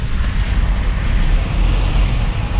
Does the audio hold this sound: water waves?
yes